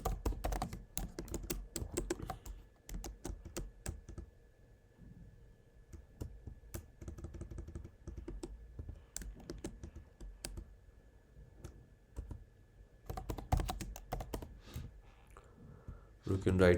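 Steady clicking on a computer keyboard comes in quick bursts throughout, with a voice talking faintly over it while text is entered into a website builder's form fields.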